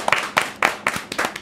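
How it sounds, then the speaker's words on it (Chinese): Scattered applause from a small studio audience: a handful of sharp, irregular clap bursts, moderately close and fairly quiet. "掌声鼓励"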